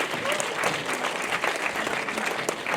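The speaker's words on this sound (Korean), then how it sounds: "수고한 2학년 1반에 박수 한번 해주시기 바랍니다." Students and congregation at a school chapel service applaud a second-year class, steady dense clapping from a crowd of moderate loudness that holds evenly without pause.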